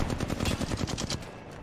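Rapid automatic gunfire bursts out in a shooter game, Apex Legends, a loud, close string of evenly spaced shots lasting over a second before easing off.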